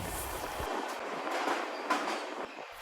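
An Amrit Bharat Express train runs along the rails with a steady rushing roar and faint rhythmic clatter, fairly quiet and continuous.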